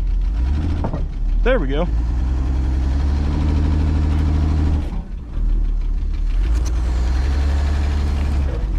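A 1964 Rambler American wagon, running after sitting for 26 years, idles roughly with a knocking mid-pitched engine, then revs as the tires spin; someone speaks briefly near the start over the steady engine noise.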